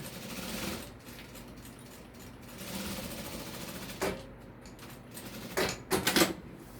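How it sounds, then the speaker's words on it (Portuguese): Sewing machine stitching two close parallel seams on a fabric makeup case, heard as a steady mechanical whir that runs continuously, pauses briefly, then resumes with a few louder bursts near the end. "E vou costurar em paralelo, ó, fica bem juntinho, tá?"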